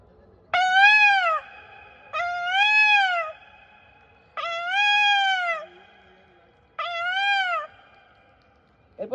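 A performer on stage imitates a peacock call with his voice, giving four loud, drawn-out wailing cries, each about a second long and separated by short pauses.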